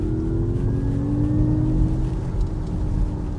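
2022 Mazda MX-30 electric car's artificial driving sound. A steady synthetic tonal hum with slowly sliding pitch sits over low road and motor rumble, heard from inside the cabin.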